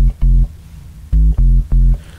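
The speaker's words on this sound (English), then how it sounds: "Something that kind of sounds like a sub." Deep sine-wave sub bass from the Vital synth, styled as a UK garage bass, plays alone in a loose rhythm of four sustained low notes with short gaps between them.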